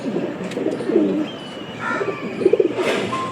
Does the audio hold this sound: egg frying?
no